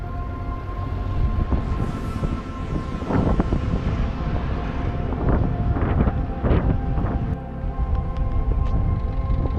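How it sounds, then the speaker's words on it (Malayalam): Strong gusty wind buffets the microphone at a Munnar hill viewpoint during light drizzle, a steady loud rumble with stronger gusts surging through, with no voices. "അത്യാവശ്യം നല്ല കാറ്റുമുണ്ട് ഇപ്പോൾ ഇവിടെ"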